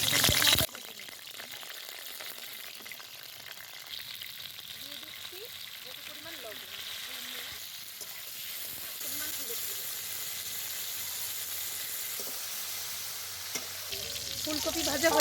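Cauliflower fries in hot mustard oil in a wok, a steady hissing sizzle that runs on evenly with occasional soft stirring sounds.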